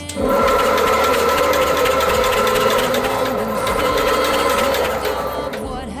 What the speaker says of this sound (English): We're going to turn the ignition on, and we're going to turn the engine over.